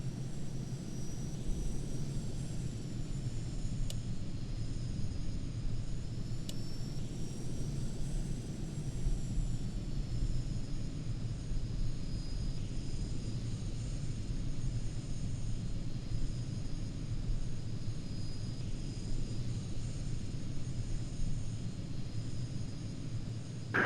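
Steady jet engine roar from an aircraft holding on the runway in the Falcon 4 Allied Force flight simulator, a continuous loud rumble with a high whine above it that keeps the same level throughout, with no voices.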